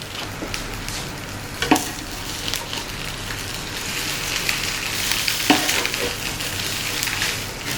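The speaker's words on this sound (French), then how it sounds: "ma brioche dans la poêle chaude" Brioche slices fry in a hot pan with a steady, fairly loud sizzle, broken by a few sharp crackles and scraping stirs.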